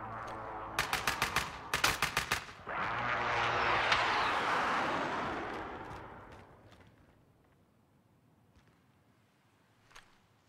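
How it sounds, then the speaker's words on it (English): A precision airstrike in the video game Call of Duty Warzone: two quick loud bursts of automatic gunfire, then a roaring jet pass that swells and fades, followed by a faint distant shot. "Friendly precision airstrike inbound."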